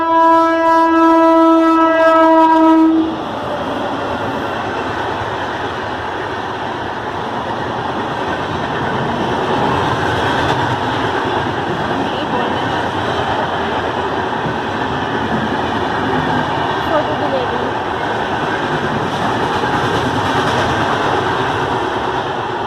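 A train horn blares for a few seconds, then a steady loud rumble and rattle of a train passing at a railway station continues throughout.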